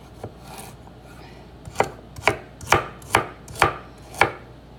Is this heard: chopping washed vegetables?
yes